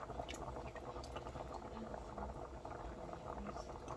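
Smashed garlic sizzles in a pot as the base of a beef goulash, a soft, continuous bubbling crackle at low volume with a faint voice in the background.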